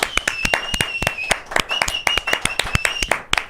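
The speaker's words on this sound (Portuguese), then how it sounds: "queria pedir uma salva de palmas aqui" A small group claps hands in quick, uneven applause, sharp close claps overlapping throughout, with a faint high tone running underneath.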